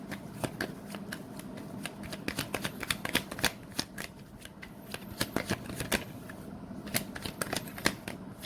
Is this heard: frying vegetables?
no